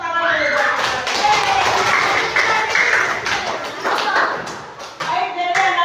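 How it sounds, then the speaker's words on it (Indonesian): Schoolchildren in a coding lesson clap together after building with wooden blocks, a loud quick patter of many small hands that swells, dips near the end and picks up again, with voices mixed in. "Beri tepuk tangan dulu buat kita"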